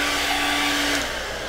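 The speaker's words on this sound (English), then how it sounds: "I'm gonna go back with my blow dryer." Someone runs a blow dryer on low to dry stencil paint on a wooden lazy susan, a steady close whirring hum with a faint motor tone that eases slightly near the end.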